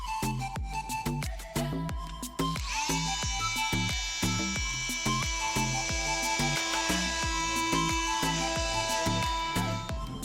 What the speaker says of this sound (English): Okay, I'll just cut out the last piece of the jigsaw.